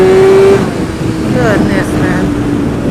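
A Kawasaki ZX6R sport motorcycle fitted with an M4 Street Slayer exhaust holds a loud, high, steady engine drone for about half a second, then drops to a lower rumble with a voice heard over it.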